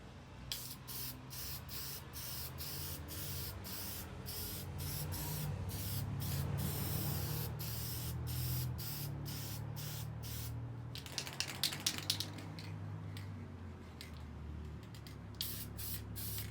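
Spray can hissing in long continuous bursts as paint is applied to the base of a homemade sheet metal brake built on a workbench, followed by short rattling shakes and quick sprays, close by.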